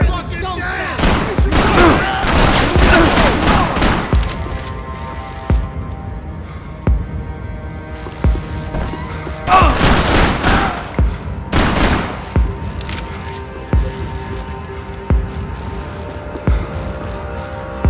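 Rapid gunfire from the video game Max Payne 3 in a bar shootout, loud clustered bursts and fusillades with pauses between volleys, mixed with shouting voices.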